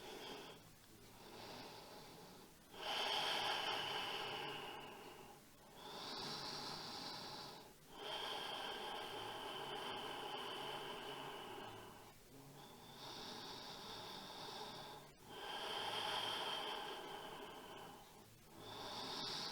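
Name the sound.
slow deep breathing in and out during yoga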